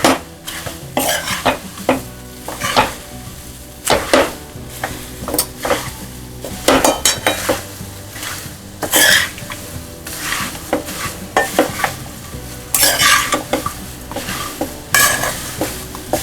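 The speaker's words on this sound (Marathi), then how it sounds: "थोडेसे हलवून घेते मी आणि मग मुरमुरे घालते." Poha stirred in a hot pan for chivda: repeated loud scrapes and metallic clinks of a spoon against the pan over a light sizzle, in irregular bursts with no talking.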